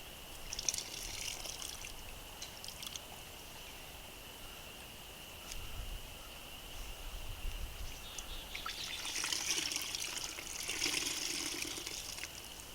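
Raw wool is squeezed and moved through a bucket of water, giving soft trickling and sloshing that swells into a fuller wet churn toward the end, with no speech.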